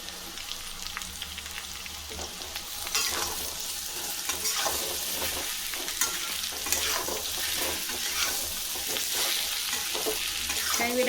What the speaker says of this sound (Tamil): இப்போ நம்ம சேப்பங்கிழங்கு சேர்த்துக்கலாம்